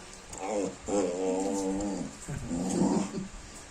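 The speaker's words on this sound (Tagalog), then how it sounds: "May pumapasok na aso." A dog growls and whines in low, drawn-out rumbles, close by, with short breaks between the growls.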